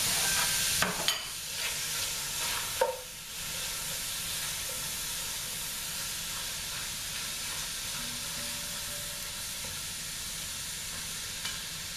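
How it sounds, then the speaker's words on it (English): One medium yellow onion, sliced, sautés in a pan with a steady, hissing sizzle. A few clanks of stirring come near the start, then the frying carries on evenly with no talking. "So now I sauteed the onions"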